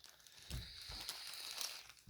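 Small plastic Ziploc bags crinkle and rustle up close in steady, crackly bursts, with a couple of brief louder handling thumps.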